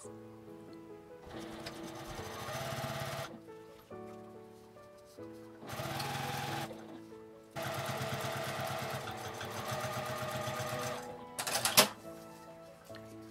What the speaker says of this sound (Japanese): ファスナーを挟んで縫います。